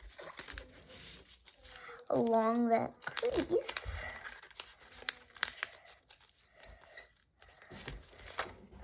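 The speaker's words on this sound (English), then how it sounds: "So then you're just gonna fold it along that crease." Sheets of paper being folded and pressed along a crease to make a paper airplane, heard as close, soft crinkling and scraping with a brief louder rustle midway, plus a short hummed voice sound.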